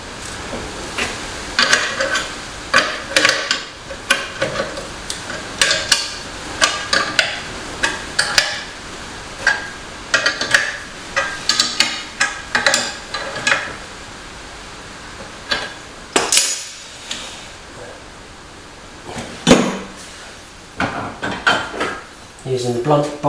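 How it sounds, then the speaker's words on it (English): Blunt bolster chisel hammered against steel while forming a Ford Escort scuttle repair panel, giving a long series of sharp, irregular metallic strikes close up, with short pauses between bursts. "Using the blunt bolster chisel again."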